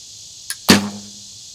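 A single arrow released from an Olympic recurve bow: a faint tick, then a sharp snap of the string with a short low hum as the bow settles, close and alone in a quiet setting.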